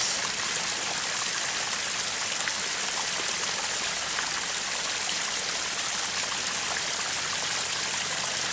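Water spills steadily down a backyard pond waterfall, a constant broadband rush with no breaks, heard close and alone.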